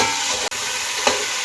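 Beef frying in a pan with garlic and ginger, a steady close hiss of sizzling oil running throughout with one brief clatter of stirring near the end.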